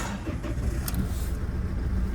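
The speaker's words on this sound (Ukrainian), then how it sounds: "Зараз запущу вам двигуна." A Ford car engine starts and settles into a steady low idle rumble, heard close and continuous with no voices.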